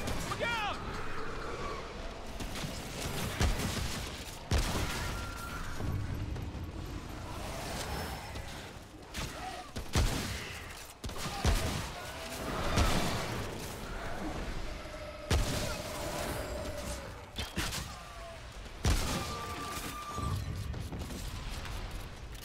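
Shotgun blasts in the game Remnant: From the Ashes, sharp booming shots recurring irregularly every few seconds amid clanking combat effects, with voices talking throughout.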